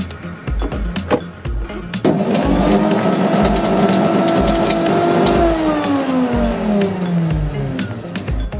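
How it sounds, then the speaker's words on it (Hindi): An electric blender whirs through spinach, coriander, mint and olives, starting after a few rattling knocks, then a loud steady motor whine that slowly drops in pitch as the blades bog down near the end. "अब इसको हम ब्लेंड करेंगे"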